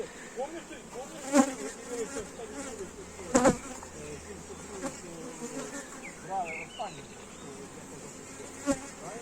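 Bees buzz around the hives of an apiary as new swarms are settled in, a continuous drone with insects weaving nearby and a few sharp knocks and bumps.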